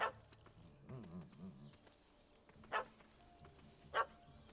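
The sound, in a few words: dog barking in the video game The Witcher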